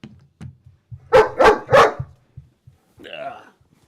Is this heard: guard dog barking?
yes